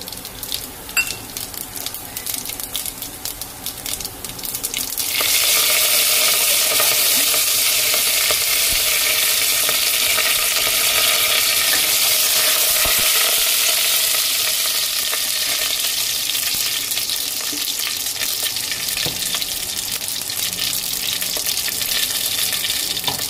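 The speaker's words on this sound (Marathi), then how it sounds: "तेल गरम झालं की आपण ना त्याच्यामध्ये ना जिरे मोहरी टाकूया" Cumin and mustard seeds dropped into hot oil, bursting into a loud, dense sizzle after a few quieter seconds and crackling steadily up close with no voices.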